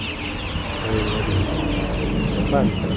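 Several chickens cluck and murmur nearby in a steady poultry-farm chorus, with a person talking faintly underneath.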